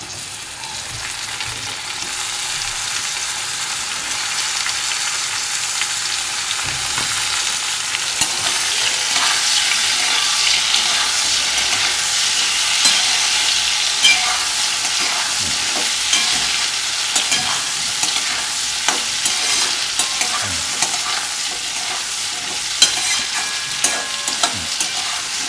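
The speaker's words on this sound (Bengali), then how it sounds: "উচ্ছেটা ভাজা হয়ে গেছে, এবার আমি বেগুনটা দিয়ে দেব।" Eggplant pieces sizzle steadily in hot oil in a pan while being stirred, with scraping and clinking of the utensil rising through the middle and near the end, and no talk.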